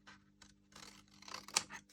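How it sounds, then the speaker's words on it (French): Large scissors snip through small cardboard tabs being bevelled at the outer edge, a few quiet crisp cuts and rustles, ending in one sharper snap, close and faint. "Je prends des grands ciseaux"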